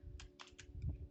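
Quick keystrokes on a computer keyboard as an IP address is entered: a brief burst of four or five faint clicks, soft and close, with no one speaking.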